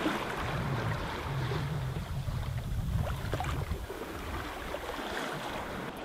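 A sailboat moves through open ocean waves at night, with a steady rushing wash of water against the hull and wind noise, continuous and fairly close.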